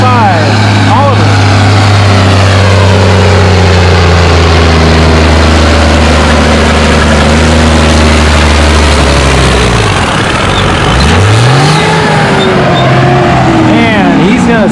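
A Cummins-swapped Oliver 1955 model tractor roars loudly at full throttle in an 11,000-pound class tractor pull, holding a heavy drone before the engine dips and revs back up near the end, with a voice over it.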